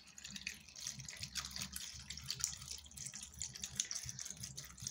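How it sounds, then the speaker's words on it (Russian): Filtered water is poured into a cooking pot at home, a steady trickling splash with faint dripping, running continuously and fairly quiet throughout with no talk. "Наливаю в нашу кастрюльчику воды."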